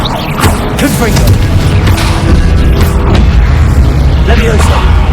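A Confringo fire spell explodes in Hogwarts Legacy combat, producing loud booms and bursts within a dense, continuous roar of battle effects, with voices mixed in.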